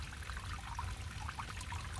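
Rainwater from a downpour flows and trickles in a steady, close splashing stream.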